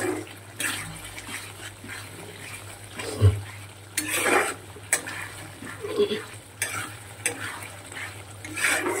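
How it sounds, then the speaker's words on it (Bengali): Spice paste with red chilli powder sizzles and fries in a pan while a spoon stirs and scrapes it in repeated strokes, for a katla fish head curry; steady, close and fairly loud, with no talking. "মশলাটা খুব ভালো করে কষিয়ে নেব।"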